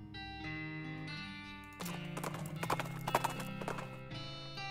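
A drunk horse in the West of Loathing video game clip-clops with quick hoofbeats and lets out a whinny over sustained game music tones.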